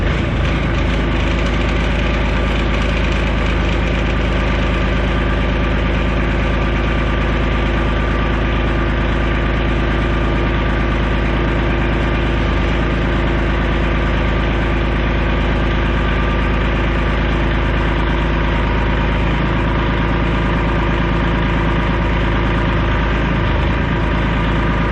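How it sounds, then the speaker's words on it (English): A Kubota tractor fitted with an LA 525 front end loader idles nearby with a steady, low, rumbling engine drone that runs unbroken for the whole stretch, with no voices over it. "We can adjust that loader up and down, and we'll put the pins in."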